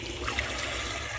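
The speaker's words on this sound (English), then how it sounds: "I go ahead and just pour cold water in it to stop it from" Cold water poured into a hot Bialetti Brikka moka pot to halt brewing, a steady close splashing trickle that runs at even level for the whole moment.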